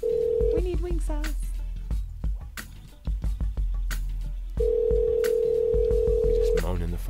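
A telephone call being placed live on a radio show: a steady dial tone, a quick run of touch-tone dialing beeps, then a long ringback tone, with voices talking over parts of it.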